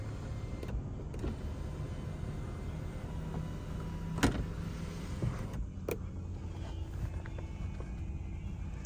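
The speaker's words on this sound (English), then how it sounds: "check out the sunroof functioning" A sunroof motor in a 2003 Lexus LS430 whirs low and steady inside the quiet cabin, with a couple of sharp clicks and thumps partway through.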